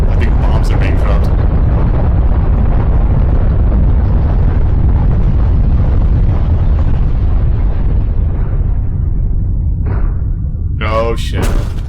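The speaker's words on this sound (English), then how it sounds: "I think bombs are being dropped." Bombs dropping and exploding in the video game Not For Broadcast, a loud, sustained rumbling blast that roars for several seconds and slowly fades, with a voice breaking in near the end.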